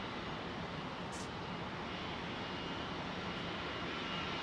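Jet engines of a Singapore Airlines Airbus A380 at London Heathrow, a steady broad roar that holds constant throughout, fairly distant, with no voices.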